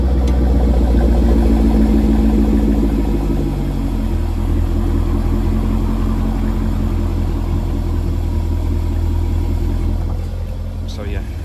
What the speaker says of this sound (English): Bit of a cold start. I'll show you the exhaust.